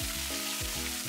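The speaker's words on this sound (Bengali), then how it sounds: "প্রথমে ভাজতে হবে পেঁয়াজটা।" Chopped onions frying in oil with bay leaf and dried chilli for mutton khichuri, a steady close sizzle running throughout under a droning tonal background with no talk.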